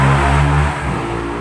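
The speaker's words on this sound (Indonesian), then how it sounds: "Aku paling benci kan knalpot kayak gitu." A loud motorbike with an aftermarket exhaust revs hard, a sustained throaty engine roar that drops off midway and then continues at a steadier idle-like drone, with no talking over it.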